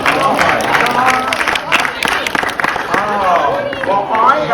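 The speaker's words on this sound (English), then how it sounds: "Give yourselves a great big round of applause." Crowd at an animation drawing class in Disney California Adventure claps and cheers, a full burst of applause with babble and shouts mixed in, loud and sustained.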